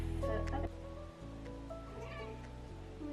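A cat meows over a steady low hum, with a voice also present in the background.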